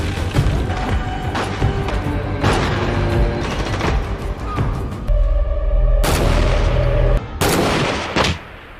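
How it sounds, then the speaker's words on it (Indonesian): Gunfire in a film shootout scene: a busy run of loud, sharp shots and booming blasts, several bursts close together with brief dense pauses, dramatic and near throughout. "Akibat baku tembak barusan, Mangrum dan Nas langsung tewas setelah John"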